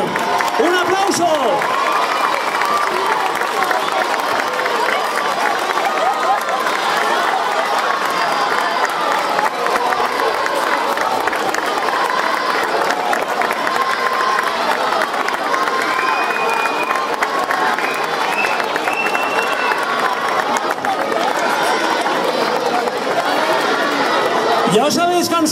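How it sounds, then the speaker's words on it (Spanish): Crowd applauding and cheering for Villarreal footballers at a town hall reception in Novelda, sustained loud clapping with shouts and children's voices throughout. "Un aplauso."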